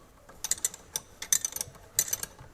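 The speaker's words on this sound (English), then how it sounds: "A bit laborious this, I've got to use 2 open-ended spanners." Open-ended spanners working the propshaft bolts on a Triumph Spitfire, giving a run of quick metallic clicks and light clinks in irregular bursts, close up and without talk.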